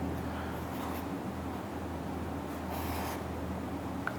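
Pen or marker strokes scratching across a board or paper while a transistor circuit diagram is drawn, quiet intermittent rubbing bursts with short pauses between them, no voices.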